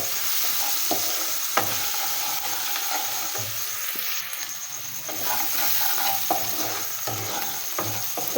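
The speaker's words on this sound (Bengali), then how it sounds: "পেঁয়াজ আর মরিচগুলো একটু ভালোভাবে ভেজে নিচ্ছি" Sliced onions and chilies fry in a pan with a steady, close sizzle, while a spatula scrapes and taps in short, irregular strokes. No voices are heard.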